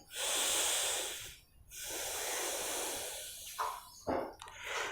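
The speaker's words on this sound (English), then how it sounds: "You should take a deep breath like this way." Deep, forceful breaths of Bhastrika pranayama yoga practice, a long loud inhale and exhale rushing close to the microphone, followed by shorter sharp breaths near the end, with no talking.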